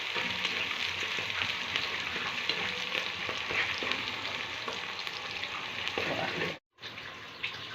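Sliced onion fries in hot oil in a pan, giving a steady, close, bright sizzle that runs continuously with only a brief dropout near the end.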